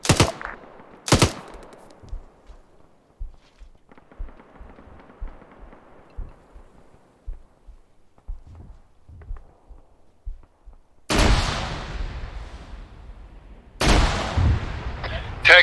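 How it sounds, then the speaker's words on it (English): Heavy gunfire directed at a vehicle, with loud bursts of rapid shots at the start, then quieter scattered thuds, then two long, dense volleys near the end. "taking direct fire on the vehicle"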